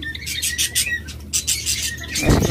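Pet birds kept for sale, including an albino pair, chirp and tweet in rapid repeated bursts close by, with a low background hum and a brief rustle near the end.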